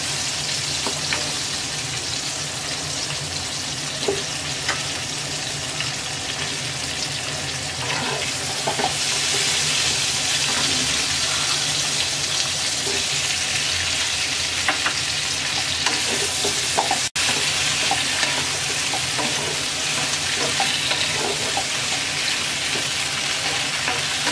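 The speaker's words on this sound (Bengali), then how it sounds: "এবার এর সাথে আমরা কাঁচা টমেটো আর শিমটা দিয়ে 3-4 মিনিট ভেজে নেব।" Cauliflower florets frying in a pan together with raw tomato and flat beans give a steady, dense sizzle with scattered stirring scrapes and clicks throughout. The sizzle swells a little louder partway through, and no one speaks.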